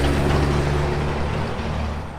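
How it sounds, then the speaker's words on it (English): A loud truck rumbles close by, a broad roaring engine noise that slowly fades as it moves away. "loud truck, sorry."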